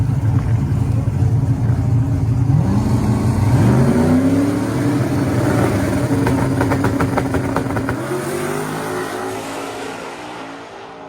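A turbocharged drag race car roars through a pass, its engine loud and steady with rising pitch as it pulls through gears, then easing off near the end; no talk.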